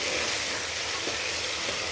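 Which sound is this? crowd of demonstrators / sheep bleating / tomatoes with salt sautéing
tomatoes with salt sautéing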